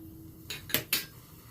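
A metal wok (kadai) is set down on a kitchen stove for frying, producing two or three close, sharp metallic clanks in quick succession against a quiet background.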